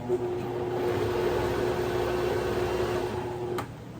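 A food processor motor pulsing a cauliflower pickling mix with a little milk: a steady, loud mechanical whirring hum with a constant drone, running continuously before cutting off abruptly with a brief click.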